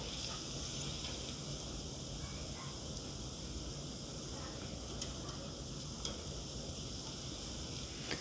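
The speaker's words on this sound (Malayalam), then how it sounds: "ബാക്കിയുള്ള മാരിനേറ്റ് ചെയ്ത് വെച്ചിരിക്കുന്ന ചിക്കൻ നമുക്ക് ഇതുപോലെ തന്നെ ക്രിസ്പി ആയിട്ട് ഒന്ന് ഫ്രൈ ചെയ്തെടുക്കാം" Marinated chicken pieces for Chicken 65 deep-fry in hot oil, giving a steady, dense sizzle and crackle that runs unbroken at close range with no voices.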